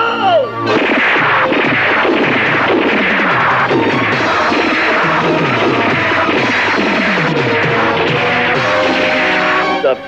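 Sustained, loud gunfire and crashing blasts from a 1986 Pakistani movie fill the scene in dense overlapping bursts, with ringing impacts and chaotic battle noise throughout.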